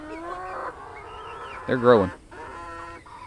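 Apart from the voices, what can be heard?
young laying hens clucking on pasture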